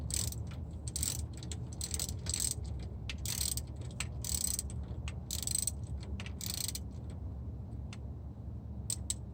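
A ratchet loosens the upper brake caliper bolt on a 2004–2015 Nissan Titan pickup's front brakes, giving bursts of rapid, close clicking in repeated strokes with short pauses between them.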